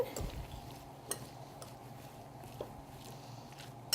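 Cauliflower potato salad with egg and red onion being stirred in a bowl, soft scraping and occasional sharp clinks of a utensil against the dish, close and quiet.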